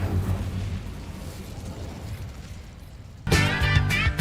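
An Incendio fire spell in Hogwarts Legacy goes off as a steady rumbling magical burst that fades slowly, followed by a sudden louder crackling blast near the end.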